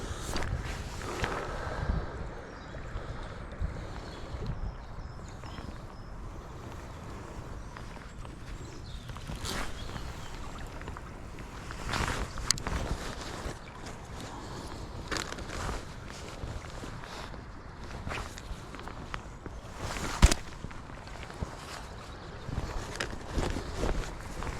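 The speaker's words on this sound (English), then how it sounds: "Wind's got up now" Wind picks up at a riverbank during barbel fishing, bringing irregular gusts that buffet and rustle in uneven bursts over a quiet outdoor background, with a sharp knock near the end and no talking.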